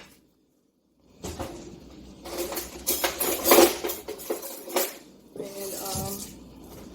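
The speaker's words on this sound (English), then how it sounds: "I'm just going to put them in my roasting pan. Separate them a little bit." Halved potatoes being placed and spread apart in a roasting pan, with irregular soft knocks, scrapes and taps against the metal pan, close up, after a second of silence, and no talking.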